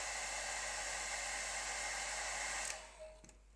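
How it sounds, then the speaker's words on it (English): A hairdryer blows steadily with a constant airy whoosh for a few seconds, then cuts off abruptly, leaving near silence with a faint click. "Get the hairdryer on that for a sec."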